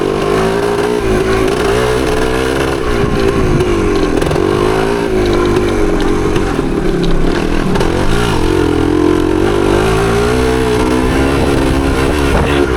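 A 1975 Yamaha DT250 two-stroke trail motorcycle crawls up a small hill in second or third gear. The engine gives a loud, close, continuous buzzing drone that rises and falls gently with throttle, with no talk.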